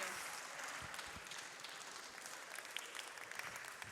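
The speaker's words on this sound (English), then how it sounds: "one more round of applause for Chelsea." An audience at a 2025 Prime event applauds Chelsea Clinton with dense, continuous clapping that sounds fairly distant and holds even across a few seconds, without any voices rising above it.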